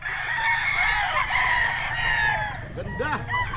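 Battle stag gamecocks, crosses kept at a gamefowl farm in San Miguel, Bulacan, crowing loudly and repeatedly in overlapping calls from several birds nearby, with one rooster's crow rising clearly near the end.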